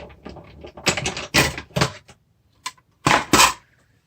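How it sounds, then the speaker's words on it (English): A die cutting machine presses a pumpkin-shaped die through its regular cutting plates, giving a string of close, clattering mechanical bursts that stop and start, with a short pause before two louder final passes. "we're just going to die cut the pumpkin"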